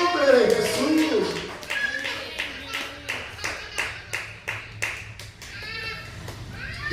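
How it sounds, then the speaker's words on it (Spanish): A church congregation claps hard and rhythmically, sharp separate slaps in a steady beat, after a short burst of voices at the start. "Aplauda fuerte el nombre de Jesús."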